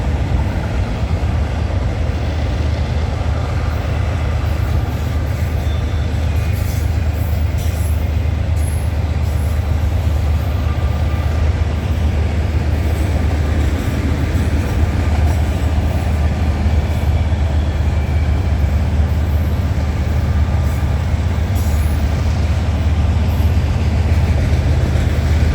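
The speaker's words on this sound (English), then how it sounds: "So what do we got for power on this eastbound train here?" CN Rail eastbound freight train rolling past at night behind locomotives, a loud steady rumble and clatter of wheels and cars sustained throughout, close by.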